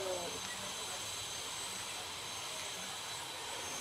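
A steady, even roar of an aircraft jet engine in a video game, holding at a constant level throughout without any breaks.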